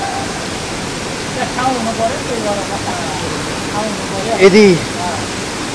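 Devis Falls in Pokhara roars as a constant, broadband rush of falling water close by, while a voice speaks briefly over the steady noise.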